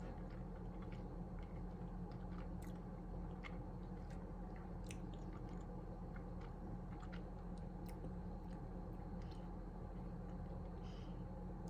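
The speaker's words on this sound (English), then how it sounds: "Go ahead and chew that." Close, soft chewing of a bite of chocolate with a smooth, soft ganache centre: faint moist clicks and squishes scattered over a steady background hiss, with no talking.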